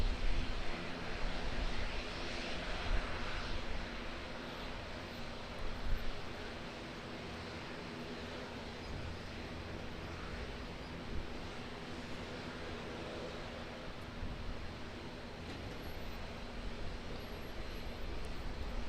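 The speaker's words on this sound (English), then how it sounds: "737-800. Getting caught in a little bit of wind on the threshold of runway 23 left." A Qantas Boeing 737-800 landing in gusty wind on runway 23 left at Auckland Airport with gentle reverse thrust, heard as a steady, fairly faint broadband roar and rumble that swells slightly at the start, with no voices.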